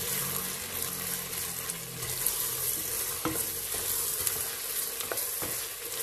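Onions frying in oil for Tunisian lamb mermiz, a dense continuous sizzle with stirring scrapes and occasional clinks of a spoon on the pan.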